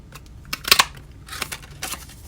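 Scissors snipping a paper snowman hat shape for a holiday box, a handful of short crisp cuts and paper rustles close by, one louder burst of snips, no talking.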